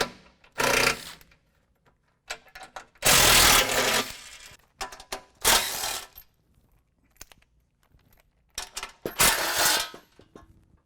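Wrench work removing four 15 mm bolts from the belly pan of a 2017 Chevrolet Silverado 2500 HD during a lift kit install: bursts of rapid ratcheting separated by quiet gaps, with scattered metallic clicks and clanks, close and without talk.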